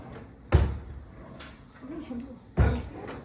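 A kitchen drawer slides open with a sharp thump, followed a couple of seconds later by a second similar knock, while a person speaks softly in between.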